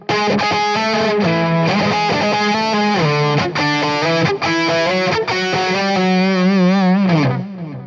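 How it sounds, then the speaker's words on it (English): A heavy distorted electric guitar plays a galloping classic metal riff, loud and continuous, with chugging rhythm and shifting chord changes before fading at the end. "we're into the verse, which is a galloping classic metal type of riff"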